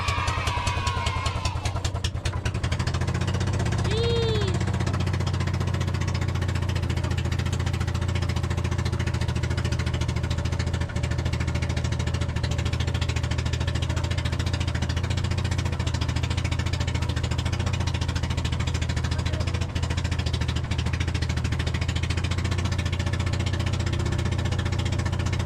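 A boat engine runs steadily throughout, a loud low mechanical drone with rattling texture that holds constant from start to finish.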